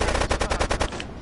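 Rapid automatic gunfire from a weapon in GTA 3 Definitive Edition, about eight sharp shots in a quick steady burst, loud and close, then stopping abruptly.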